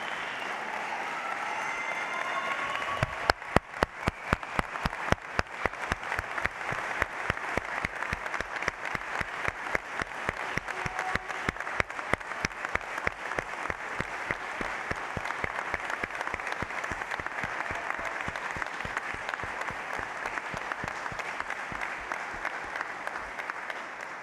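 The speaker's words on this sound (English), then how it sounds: "Ladies and gentlemen, let's give a big round of applause for the Steel Battalion commissioning class of 2025 and our newest officers of the United States Army." A crowd at an Army ROTC commissioning ceremony applauds the newly commissioned class, sustained, even clapping that starts sharply and keeps a steady rhythmic beat from a large audience, fairly loud throughout.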